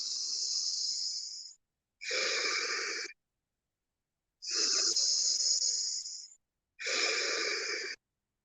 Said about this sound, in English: Two breaths on each side.